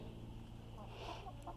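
Faint, low clucking of chickens close by, soft and intermittent against a quiet background.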